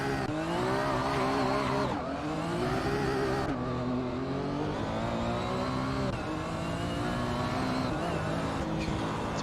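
A Porsche 911 GT1 race car engine in the Assetto Corsa racing game runs loud and close, climbing through the revs and dropping sharply at each gear change, with a steady harmonic drone throughout.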